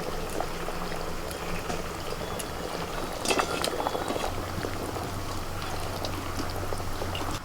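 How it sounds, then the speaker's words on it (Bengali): Fried fish goes into a bubbling potato curry, with a steady, moderately quiet boiling fizz throughout and a brief burst of splashing crackle near the middle. "এবার ভাজা মাছ দিয়ে দিচ্ছি"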